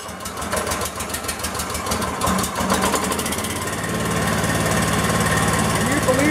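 A Power King DK2 stump grinder's engine catches on the first pull, cranking with rapid knocking pulses, then settling into a loud, steady running drone. A voice talks over the engine.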